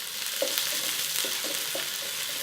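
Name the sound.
shallot and garlic frying in a pan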